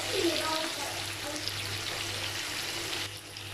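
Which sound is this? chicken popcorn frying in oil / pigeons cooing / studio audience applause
chicken popcorn frying in oil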